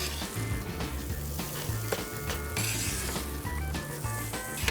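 Tortas fry on a Lone Star Grillz skillet with a loud, continuous sizzle heard close, along with occasional scrapes and clinks of a utensil and a low steady hum beneath, and no talking.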